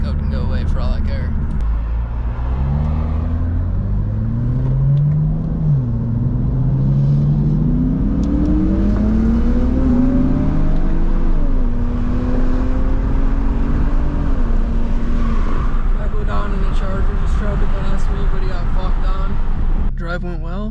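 A BMW on a short test drive after a battery swap, engine droning steadily and rising in pitch through gear changes, close and continuous with road rumble for about twenty seconds.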